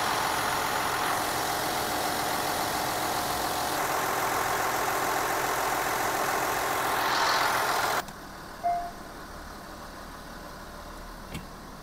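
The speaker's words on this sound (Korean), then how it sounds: "1차 주입 후 이제 시동을 걸을 거예요." A Kia Mohave engine runs at a steady idle after an oil fill during transmission work, a continuous even hum for about eight seconds that then cuts off, leaving near silence with a couple of faint clicks.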